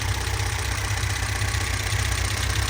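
A 1967 Volvo 1800S with twin carburetors idles steadily up close, its low, even engine rumble running unbroken from start to finish with no voices over it.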